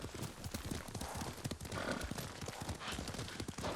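Hooves pound rapidly as a horse gallops in the samurai video game Ghost of Tsushima, a dense, steady clip-clop rhythm close up over a noisy wind-and-movement background.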